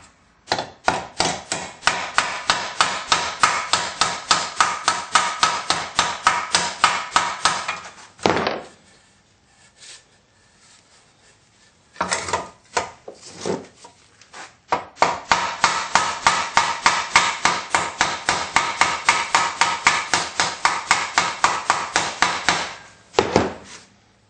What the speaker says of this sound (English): just hammering it flat.